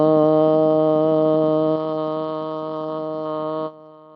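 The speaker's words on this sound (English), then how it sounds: "we'll begin our practice together with the sound of one Om" A yoga class chants a single sustained Om together, a rich harmonic hum held for nearly four seconds that shifts timbre partway and fades out at the end, with no talk over it.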